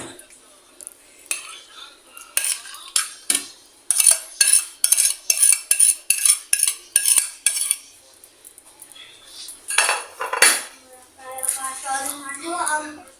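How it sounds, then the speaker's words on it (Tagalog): A utensil stirs a homemade macapuno ice cream mixture in a bowl, making a quick run of rhythmic metallic clinks and scrapes up close. Someone talks over part of it. "Ayan, ihalo natin to siya."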